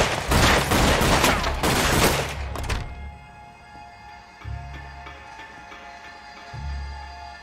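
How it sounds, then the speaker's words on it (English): Rapid burst of small-gun gunfire in a televised hotel shootout, loud dense shots for nearly three seconds, then a couple of heavy thuds in the quieter aftermath. "That was a lot of ammo from that little gun."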